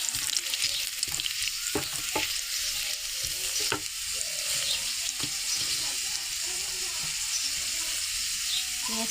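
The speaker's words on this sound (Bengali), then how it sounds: "পেঁয়াজটা আমরা দেখতে পাচ্ছি ভাজা হয়ে গেছে।" Onions fry in oil in a pan for a village-style vegetable pilaf, a close, constant sizzle punctuated by several sharp clacks of a stirring spoon.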